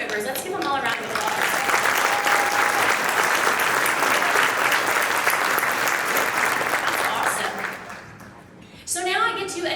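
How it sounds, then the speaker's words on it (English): Loud, sustained applause from a crowd at a chamber of commerce meeting welcoming new members, steady clapping for about eight seconds that tapers off before a voice resumes speaking. "Let's give them all a round of applause"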